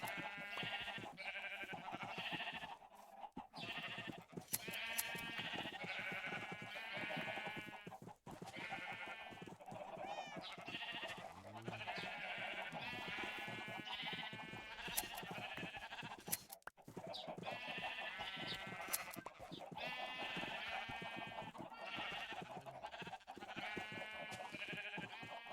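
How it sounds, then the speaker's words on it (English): Repeated bleating from sheep in the video game Minecraft, many overlapping bleats in a steady stream over a long stretch, close and fairly faint overall, with a few sharp clicks in between. "Come on, red sheep."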